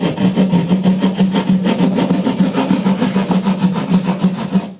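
Hand saw or rasp cutting back drywall ceiling material beside a floor support to make room for drilling a hole, during a ceiling light install; a steady, close, rapid back-and-forth rasping rhythm of repeated strokes with no talking.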